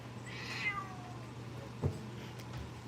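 A cat meows for treats in a drawn-out, wavering call, with a second short cry later, amid a low steady hum in a quiet room with no talking.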